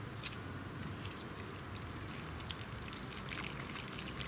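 Water poured from a can onto the soil of a freshly potted cordyline cutting, a steady soft trickle that runs evenly for several seconds with no talking.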